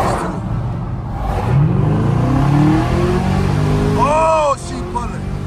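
A 2023 Chevrolet Camaro ZL1 1LE accelerates hard, its engine note rising loudly through the gears with rising and falling whines, heard from inside the car.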